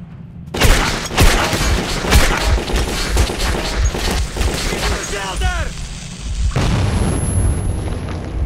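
Heavy gunfire and booming blasts from the video game Metro 2033 fill the scene loudly and almost continuously. Shouted voices and crackling bursts are mixed through the din.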